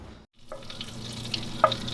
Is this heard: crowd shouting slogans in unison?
no